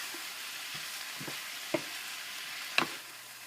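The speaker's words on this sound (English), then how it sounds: "Just mix it around, pan fry it." Minced pork for Thai larb moo is stirred and pan-fried, a steady broadband sizzle with a few distinct spatula scrapes and knocks against the pan, near and without talking.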